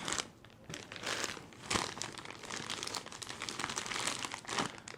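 Crinkling plastic bag as the accessories of an ASUS ROG Strix 550G power supply are unpacked; steady close crumpling and rustling throughout, with a few sharper crunches and no talk.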